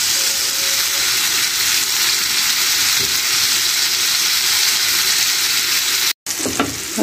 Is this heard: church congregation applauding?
no